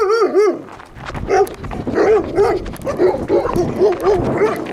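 Several large dogs, Kangals among them, bark repeatedly, a deep nearby bark starting, then a chorus of overlapping barks and yips continuing over a noisy background.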